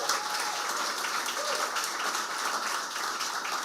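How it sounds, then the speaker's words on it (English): Audience applause at a Caribbean literature award ceremony, steady sustained clapping from a crowd throughout, even and moderately loud with no talk over it. "Applause, please, for Shivani Ramlochan, Marielle Forbes,"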